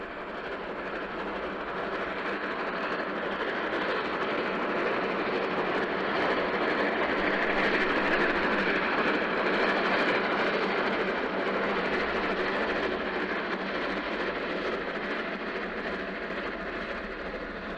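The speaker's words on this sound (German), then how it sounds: "der letzte kommt jetzt gerade ins Bild gerollt" H0 scale Roco BR 44 model steam locomotive hauling a long train of 78 wagons, a steady continuous rolling rumble of wheels on track with a soft, even clatter, moderately quiet and unchanging throughout.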